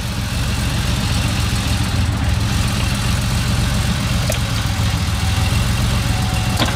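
A 1990 Porsche 911 (964) with a 3.6-litre boxer engine idles nearby, a loud, steady low rumble with an even, busy pulse and no voices.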